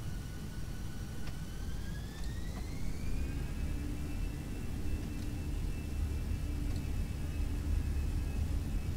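Airbus A320 engines spool up for takeoff in Microsoft Flight Simulator: a steady low roar under a whining tone that climbs in pitch over a few seconds, then holds level at full thrust, with no voices.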